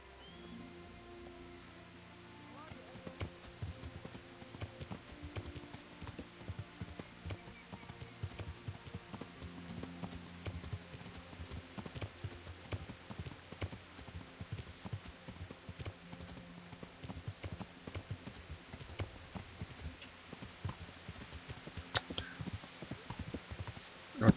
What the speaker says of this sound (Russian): просто самая крутейшая лошадь, серьезно, в игре